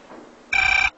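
A telephone gives one short, bright electronic ring burst in a quiet indoor scene from a short drama, loud and close, with faint room tone before and after.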